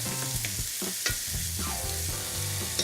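Meat and onions pan frying for German hamburger Labskaus, a loud close sizzle with scraping and clinking of a spatula against the pan, no voices.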